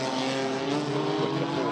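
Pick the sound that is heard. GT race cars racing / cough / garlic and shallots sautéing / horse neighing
GT race cars racing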